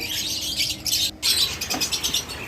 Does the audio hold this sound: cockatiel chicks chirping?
yes